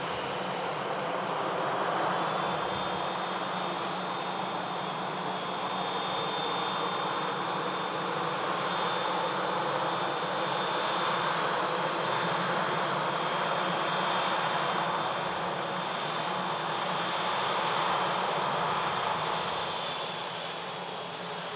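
A KLM airliner's engines at Manchester Airport give a steady, broad jet roar that holds evenly for over twenty seconds across an open airfield, with no talking.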